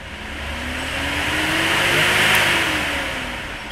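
Dual SPAL brushless cooling fan forced on, an airy whoosh that swells up to a peak and then eases off, with a faint whine rising and falling underneath, close by and with no talking.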